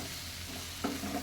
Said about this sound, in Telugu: ఇట్లా బాగా కిందికి పైకి బాగా కలపాలి.